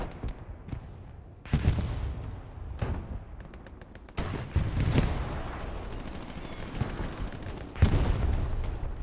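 Gunfire from a tank battle in the World War II game Hell Let Loose, with a Panzer IV and a 76 involved: heavy cannon booms and crackling rifle and machine-gun volleys roll on without pause, some close and some distant.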